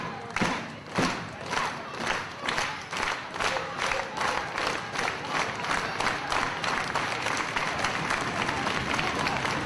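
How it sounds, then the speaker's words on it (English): Wrestling crowd at an FWA Academy supercard show roars and cheers continuously, with rhythmic bursts of clapping and shouting building in intensity, loud and dense throughout. "The crowd here beginning to come unglued at this supercard, and Sticks is on the apron"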